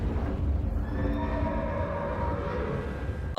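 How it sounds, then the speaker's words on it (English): Horses whinny and cry in the film Nope (2022), a steady neigh-like wail under a low, rumbling bed, ending in a sharp knock. "the whining noises from earlier were the cries of the horses"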